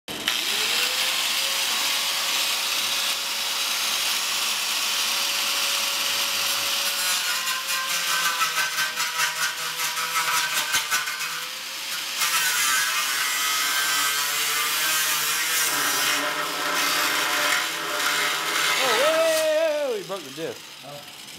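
A cutoff disc grinding through a car's steel cross member during an engine swap on a Honda CRX, a long continuous harsh whine with shifting pitch, close and loud, ending with a brief wobbling squeal as the cut finishes.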